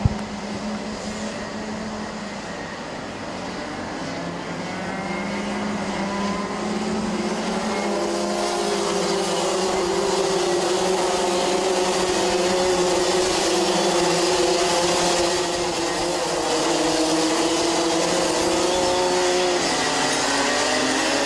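Racing karts on a formation lap in the Senior Max heat at a Thailand kart race produce a loud, continuous engine drone that rises and shifts in pitch as the pack moves around the circuit.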